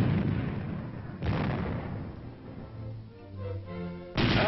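Tank main guns firing armor-piercing tracer rounds at a gunnery range: loud booming blasts, one at the start, another near 1.2 seconds and a third near the end, with rumbling decay and engine drone between them.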